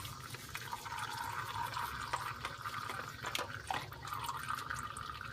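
Oil drains from the filter of a Kubota ZD326 zero-turn mower into a drain pan below, a soft continuous trickle with scattered faint drips, quiet and close, with no talking.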